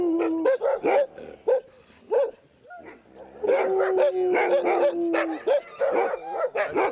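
A pack of sled dogs in snowy Kamloops bark, yip and howl close by, with repeated overlapping barks and a sustained howl in the middle.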